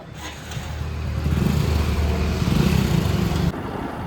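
A motorcycle idles steadily after workshop servicing, its close, even engine putter running for a few seconds before cutting off abruptly.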